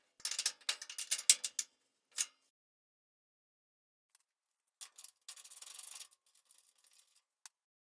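A ratchet tightens a nut on an aftermarket shock mount at the top of a vehicle's fender area, quick bursts of clicking strokes separated by silent pauses, close and fairly quiet.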